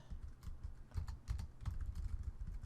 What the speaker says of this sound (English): And I'm going to go ahead and type in George, Eva